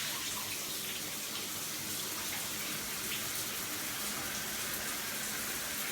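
An Anespa shower runs steadily after being turned on, water gushing and hissing in a constant, close spray with no voices.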